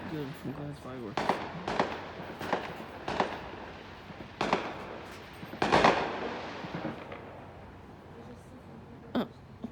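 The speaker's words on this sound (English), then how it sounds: "Fireworks are illegal, I think." Firecrackers and fireworks pop and crack in a scattered series, several sharp bursts clustered early and a loud one midway, then fewer and fainter reports, with a voice speaking amid them.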